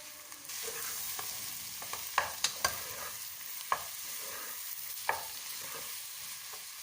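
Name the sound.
stirring onion and egg curry in a pan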